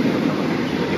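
A steady rumble of a stainless steel economy-class passenger train rolling along the tracks between Jakarta and Jogja, continuous and close, with a dull rolling hum and no distinct clicks.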